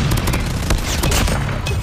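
Bomb blasts in the mobile shooter game Call of Duty Mobile: a dense, loud, continuous barrage of booming explosions with rapid crackling fire, heard alone without talk.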